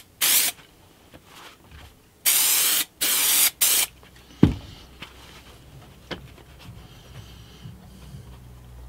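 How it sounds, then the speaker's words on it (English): Spray contact adhesive hisses from a can onto foam offcuts in four sharp, close bursts, two longer and two brief, followed by quieter handling and rustling of the foam. "I'm just going to use some spray contact adhesive just to adhere these together"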